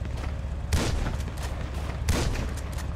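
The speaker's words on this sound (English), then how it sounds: "Shooting, Grant." Gunfire in GTA V lands as two heavy booming shots about a second and a half apart, over a constant low rumble of the game.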